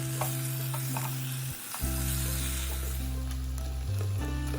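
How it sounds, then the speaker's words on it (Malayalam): Boiled boneless chicken pieces fry in a cooked chilli masala for chicken pola, a loud, close, steady sizzle with stirring scrapes over sustained background music, no voices. "വേവിച്ച ബോൺലെസ് ചിക്കൻ പീസ് കൂടി ഇട്ട് കൊടുക്കുക."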